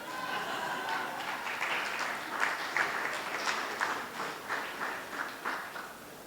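An audience applauds a panel after a series of presentations, steady clapping of a sizable crowd that swells and then gradually thins out, with no talk over it.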